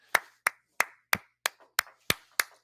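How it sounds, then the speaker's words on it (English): Eight crisp, evenly spaced claps ring out up close at a Saybrook University anniversary gala, honoring an award nominee in a steady, brisk rhythm with nothing else underneath. "Let's give her a round of applause, everyone"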